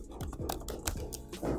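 Keys click rapidly on a computer keyboard, a quick run of soft, close taps with a fairly even rhythm, recorded quietly.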